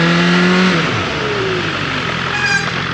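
A BMW S1000R motorcycle engine revs loudly and steadily, its pitch dropping slightly then holding as it accelerates on, close and continuous with no talking.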